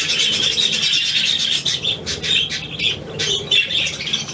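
A small pet budgie chirps in rapid, bright twitters with bursts of wing flapping, close and fairly loud, continuing throughout.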